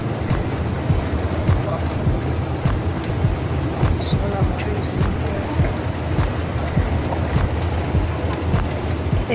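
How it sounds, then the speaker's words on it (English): A water fountain splashes inside a community shopping mall with a constant loud hiss and wash, while faint voices and footsteps sound over it. "there's a water fountain around this area"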